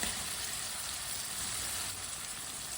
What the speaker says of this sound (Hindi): छलजम डाल लेंगे कटे हुए।